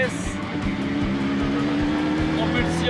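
A track car powered by a Yamaha R1 motorcycle engine accelerates with a close, loud, rising engine whine and rough rumble, steady for a few seconds, while a person talks over it.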